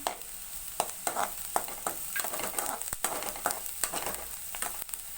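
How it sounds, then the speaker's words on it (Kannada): Onions and green chillies fry in a pan for egg bhurji, a steady soft sizzle broken by repeated sharp scrapes and clacks of a spatula stirring, close and fairly quiet with no talking. "ಇವಾಗ ಚೆನ್ನಾಗಿ ಫ್ರೈ ಆಗಿದೆ ಈರುಳ್ಳಿ."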